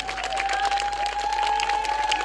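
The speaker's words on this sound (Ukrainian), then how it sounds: "Ваші аплодисменти нашим акторам." An audience at a folk festival applauds actors after a partisan-song reenactment, dense steady clapping from many hands, close and sustained, with a faint tone held underneath.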